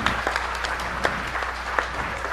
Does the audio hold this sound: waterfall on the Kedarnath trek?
no